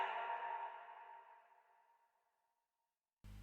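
A processed vocal line trails off into a long echo tail that fades gradually over about two and a half seconds into near silence, followed by an abrupt loud burst at the end.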